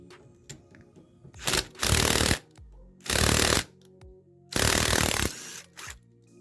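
Three loud bursts of mechanical whirring and rattling from a socket wrench removing a nut during a brake disc change on a 110cc motorcycle, each lasting about a second, separated by quieter clicks and small metallic handling noises.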